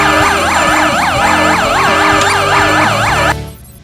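A police siren wails in the video game Supreme League of Patriots, loud and close with a rapid repeating yelp over a low vehicle rumble, then stops abruptly near the end.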